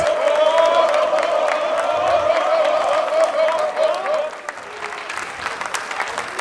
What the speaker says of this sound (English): let's give a resounding round of applause to the gentlemen from the